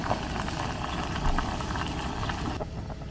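A pot of water boils on a camp stove outdoors, a steady, close roar of gas flame and bubbling that runs without a break and thins out near the end.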